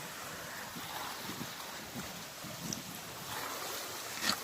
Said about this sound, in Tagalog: dito ako ngayon sa tabi ng dagat